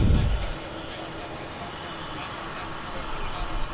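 An Alaska Airlines airplane at Vancouver Airport gives off a broad, steady engine roar, loudest at the very start and then holding as an even rumble, with a person talking briefly.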